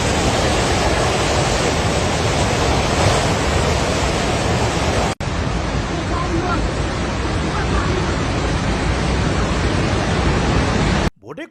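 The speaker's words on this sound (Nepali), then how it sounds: "भोटेकोसी नदीमा पानीको बहाव अत्याधिक बढेपछि रसुवा जिल्लाको सीमावर्ती टिमुरे भन्सार क्षेत्रमा ठूलो बाढी आएको छ।" Bhote Koshi river in flood at the Timure customs border area of Rasuwa district, Nepal: a loud, unbroken roar of rushing water that fills the clip, with a brief cut near the middle and at the very end.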